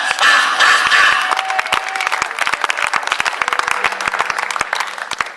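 A church congregation applauds loudly during a French-language sermon, a dense burst of clapping at the start that thins into scattered, uneven claps over several seconds.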